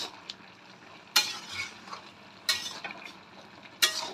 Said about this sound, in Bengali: এবার একটু ভালো করে নেড়ে দেব